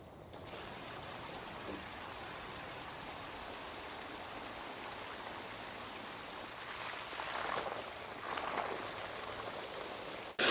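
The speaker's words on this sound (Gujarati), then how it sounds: "પાણી જાજુ આવે. પાણીનું પ્રેશર અને બહુ જાજુ છે." Irrigation water gushes under strong pressure into a farm field, a continuous rushing, splashing flow at moderate distance that swells slightly near the end; no talking.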